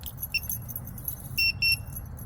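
An RV door lock fitted with a Latch It system beeps twice after the key fob's lock button is pressed: two short, fairly loud electronic tones in quick succession over a low background hum.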